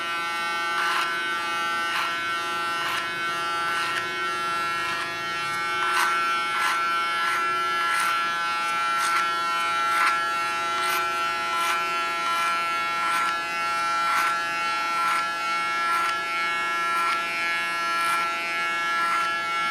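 Electric hair clippers buzz steadily while shaping a short pixie cut, giving a constant close hum broken by regular faint ticks as the blade passes through the hair, with no talking.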